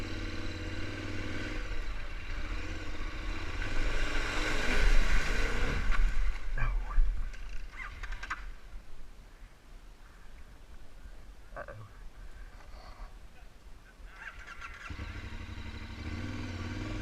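Adventure motorcycle at a rally churning through a mudhole, engine droning loudly then easing off amid splashing and sloshing, with the engine roaring back up near the end.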